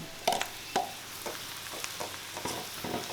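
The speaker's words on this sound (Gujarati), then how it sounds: "રોટલી વઘારવાનું ચાલુ છે" Leftover roti being stir-fried with chili and cumin, with a soft frying sizzle broken by several quick spatula stirs and scrapes against the pan, close and brief with no voices.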